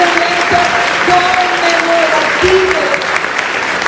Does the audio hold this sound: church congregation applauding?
yes